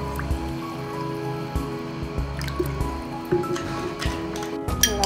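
Water pours steadily into a glass of kulukki sharbat with lemon and salt, a continuous trickling, splashing sound, fairly close, with small drips and gurgles and no voices.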